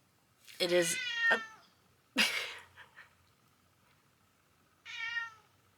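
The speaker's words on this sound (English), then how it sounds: "He's just in this like back corner just meowing at it." A cat meows three times nearby, drawn-out and plaintive, with quiet gaps between the calls.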